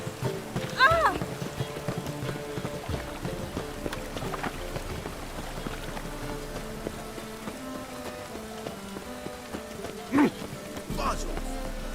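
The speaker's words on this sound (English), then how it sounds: "Rain, I like rain." Steady rain falls throughout a Witcher 3 game scene, a constant broadband wash under a busy mix of music, footsteps and voices, with a few louder thumps near the end.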